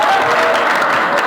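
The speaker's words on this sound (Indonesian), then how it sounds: "kasih tepuk tangan" Students applauding in a classroom during a religious education lesson, a brief, loud, dense burst of clapping close by.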